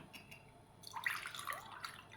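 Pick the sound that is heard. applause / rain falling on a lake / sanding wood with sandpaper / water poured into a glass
water poured into a glass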